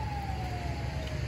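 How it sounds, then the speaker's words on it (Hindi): An ambulance siren wails steadily in the background amid a street protest near police, a continuous falling tone over crowd noise with no clear speech. "एम्बुलेंस जो है वो कारकुनान के दरमियान फंस चुकी है"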